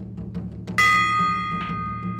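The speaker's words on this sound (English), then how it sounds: "my gong doesn't go dong," A tiny gong struck once, ringing out with a bright, high ding that sustains and slowly fades, close and loud over a low background hum.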